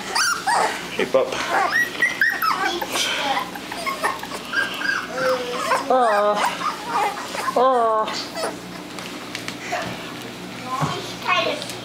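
Several high whimpers and short yips come from a young puppy in a litter, close by, interleaved with adults and someone talking.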